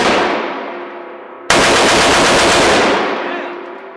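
SAW machine gun firing at an outdoor shooting range, two loud sustained bursts of rapid automatic fire, the second longer, each trailing into echo.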